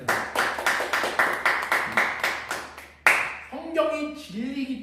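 Rhythmic group clapping at a church Bible study, about a dozen steady claps in a row, fairly close and loud, followed by a voice speaking after the clapping stops.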